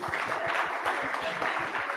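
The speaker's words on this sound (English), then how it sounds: "Let's give them a big round of applause when they run in." A conference audience at a Devconnect event in Istanbul claps for panelists arriving on stage, a continuous moderate patter of applause with rhythmic low thumps and voices mixed in underneath.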